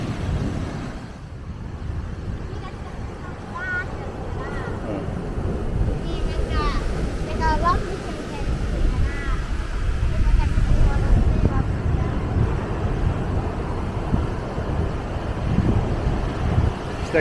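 Sea waves surging and crashing against the rocky shore of Irabu Island in Miyako, a loud continuous wash with strong wind buffeting the microphone and a swell building midway, as people talk excitedly over it.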